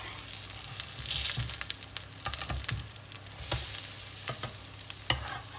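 Courgette and feta fritters sizzle steadily in a hot pan, broken by scraping clicks and taps as a spatula turns them over; close, continuous frying with no voices.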